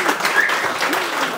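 Applause from a hackathon audience after the final pitch fills the room, a dense steady wash of clapping with a voice faintly mixed in beneath.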